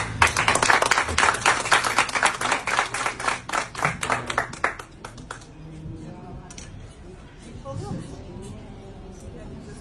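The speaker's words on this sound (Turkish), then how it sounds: "bir alkış" A small group claps in a quick burst of sharp, close applause that fades after about five seconds, followed by quieter talk and faint background sounds.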